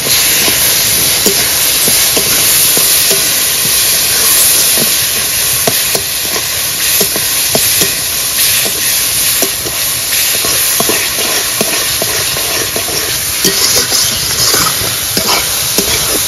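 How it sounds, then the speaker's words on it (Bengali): Spices being stirred in a hot frying pan, with a steady loud hiss and sizzle and faint scraping throughout, no voices. "এবার ভালো করে নেড়ে নেব"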